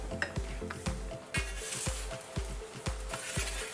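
A potato-filled roti browns in a pan with a soft, steady sizzle, broken by a regular series of close, knocking pan and utensil clinks.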